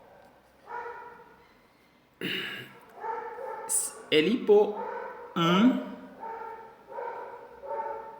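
A dog barks in short bursts in the background while a person keeps talking over it.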